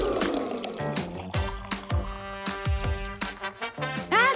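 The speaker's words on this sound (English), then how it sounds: "Get the boots ready and fill them up with water." Water poured into boots, gurgling and trickling in uneven bursts with wet glugs and splashes, close and fairly loud throughout, the pitch rising at the end as the boots fill.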